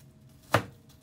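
A knife chops once through the core of an onion, a single sharp cut standing alone against a quiet background.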